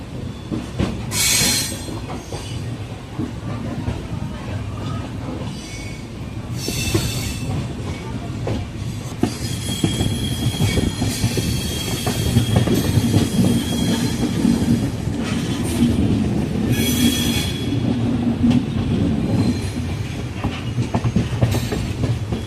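A passenger train rolls into Tirunelveli Junction at the end of a journey from Dadar, with steady rumbling wheels, clickety-clack and intermittent high squealing from the rails, heard from on board with no talk.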